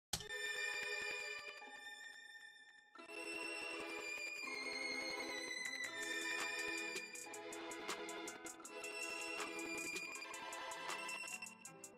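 Layered violin melodies and sustained chords joined by a plucked pizzicato melody in a dark Southside-style arrangement, playing loud and continuous throughout with a brief thinning near the three-second mark before the full texture resumes.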